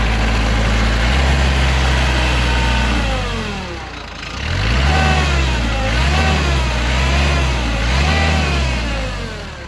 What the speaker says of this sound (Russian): Трактор заводится легко. При этом трактор холодный.